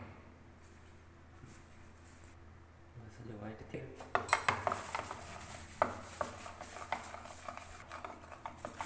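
A spoon mixing a rice flour face pack in a bowl, quiet at first, then a run of light clinks and scrapes against the bowl in an irregular rhythm, close and fairly soft.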